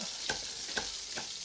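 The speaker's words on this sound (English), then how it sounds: "You can hear my rabbit sizzling away, burning like fire" Rabbit meat browning in a hot pan, a constant bright sizzle and crackle of frying, broken by three stirring scrapes about half a second apart, close and with no talking.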